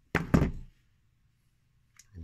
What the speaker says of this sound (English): so we can get these pins punched out.